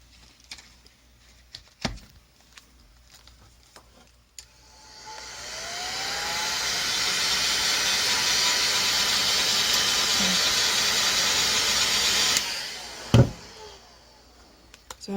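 A heat gun blows a steady broadband hiss for several seconds while KPMF gloss vinyl wrap film is warmed and stretched, starting abruptly, holding even and close, then cutting off, with a few clicks and knocks around it.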